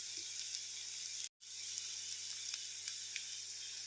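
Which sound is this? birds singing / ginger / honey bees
ginger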